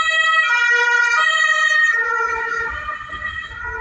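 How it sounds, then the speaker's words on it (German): A two-tone emergency siren wails loudly, then drops in pitch as it passes and fades slightly, with road rumble underneath. "Habt ihr gerade anhand der Sirene den Doppler-Effekt gemerkt?"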